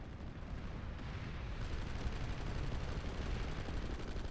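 Sustained heavy, rumbling blasts and battlefield roar from a Tactical Ops game match, with a frag grenade going off amid continuous loud low booming and no distinct single peak.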